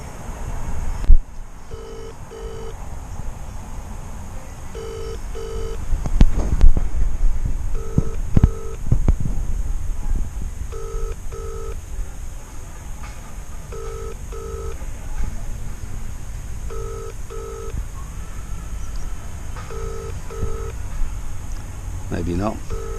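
A phone rings out on a call to Harvey Motorsport, a repeating double-pulse tone that recurs at steady intervals for over twenty seconds above a rumbling background with occasional clatter.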